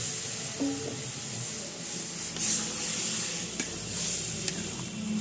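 Water hits a hot pan of dal with egg, giving a continuous sizzle and hiss with a brief louder steam burst partway through. Scattered light clinks are heard and no one speaks.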